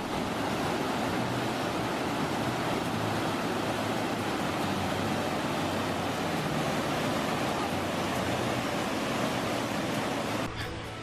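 Adyanpara waterfall at Nilambur rushes over rocks with a dense, continuous roar, loud and close, steady throughout with no pauses.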